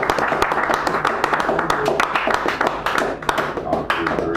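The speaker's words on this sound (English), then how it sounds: "Let's give him a big round of applause." Audience applause at an open mic night in a San Francisco cafe: a few seconds of dense, close clapping from a small crowd, with a voice talking over the start.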